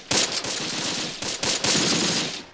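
Panzer Grenadiers in the Close Combat war game open fire on enemy infantry from a high position: loud, rapid bursts of machine-gun and rifle fire crackle in several clusters with short gaps between them.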